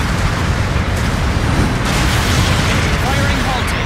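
Long-range supporting artillery fire in the mecha combat game Gundam Battle Operation 2, a dense, continuous rumble of booms and blasts that fills the whole stretch, with faint chirping game sounds and speech-like tones on top.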